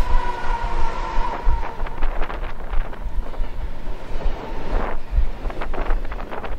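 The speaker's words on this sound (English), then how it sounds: "This is a long, long train." A long BNSF freight train rumbles past close by at Fullerton, with heavy rolling clatter and gusts of wind buffeting the microphone.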